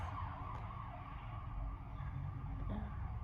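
A police siren drifts in from outside, a faint wavering wail under a steady low rumble of traffic, with no voices over it.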